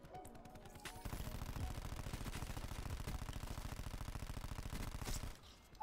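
Rapid sustained automatic gunfire in Black Ops 4, a whole magazine emptied in one long, steady burst of evenly spaced shots, loud and close, starting after a short lead-in and cutting off near the end.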